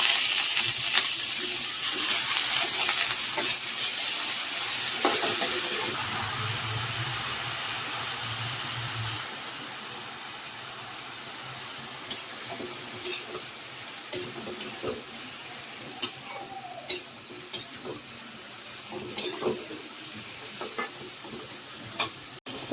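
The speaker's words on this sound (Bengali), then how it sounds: "তো লাউ ভাজি বসাই দিছি" Bottle gourd sizzles in a pan over fried onions, a steady close hiss running throughout with sharp crackles and pops, louder at first and then settling into a quieter fry with scattered spatters.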